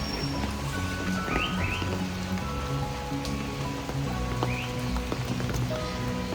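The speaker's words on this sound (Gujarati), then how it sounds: "ઝીણો ઝીણો વરસાદ આવી રહ્યો છે" Light drizzle falls outdoors on a rainy day in Munnar, Kerala, a soft continuous patter of drops with faint birdsong and scattered background noises.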